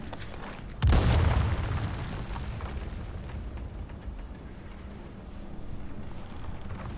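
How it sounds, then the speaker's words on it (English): A grenade blast in the Resident Evil 4 Remake video game: one sudden deep boom near the start, then a rumbling tail that fades slowly beneath low background noise. "let's try a grenade."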